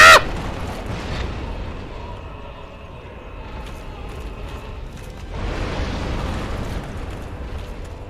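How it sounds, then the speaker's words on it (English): A grenade bursts in a modded Dark Souls battle, with a sharp loud blast at the start, then a rumbling low roar that dies down and swells again near the end. "Grenade!"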